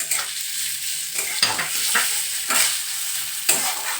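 Spices being stir-fried in very little oil for Bengali mocha chingri, with banana flower and prawns, give a dry sizzle broken by repeated scraping stirs of a spoon against the pan, close and with no speech.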